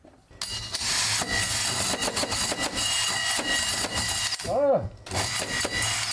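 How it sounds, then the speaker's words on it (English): A drill bores holes in wood for wiring during a home renovation, a loud continuous grinding buzz up close with brief pauses, and a person lets out a short vocal sound near the end. "let me get some holes drilled for the wires"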